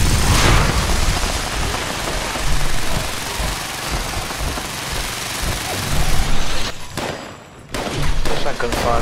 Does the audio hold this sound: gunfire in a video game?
yes